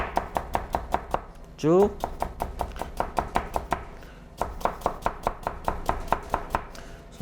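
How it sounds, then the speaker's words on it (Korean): A kitchen knife push-cutting food on a cutting board in a vocational high school Western cooking lesson, with steady rapid chops in even bursts, a short pause with a brief voice, then the quick rhythmic chopping resuming close and clear. "이런 식으로 밀어썰기를 쭉 연습해 주시면 되겠습니다"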